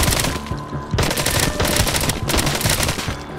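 Rapid bursts of automatic gunfire from a gun in the zombie shooter video game Arizona Sunshine, loud and close, two long volleys split by a brief gap and a short pause near the end, with no talking.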